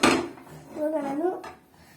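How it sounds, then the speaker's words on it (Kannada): A tava pan set down on a home kitchen stove gives a brief metallic clatter and scrape at the start, followed by faint clinks and a child's speech. "ತವಾನ ಸ್ಟವ್ ಮೇಲೆ ಇಟ್ಟಿದ್ದೀನಿ."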